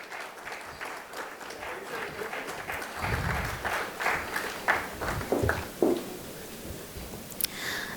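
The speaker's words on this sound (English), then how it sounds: "Everybody, can we please keep clapping?" Scattered audience clapping at a ceremony during the India-Africa Seed Summit, steady and moderately close, with a few louder claps and light rustling and footsteps toward the end.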